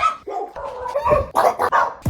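A dog barking close and loud at a house door, a rapid series of sharp barks and yips over about two seconds.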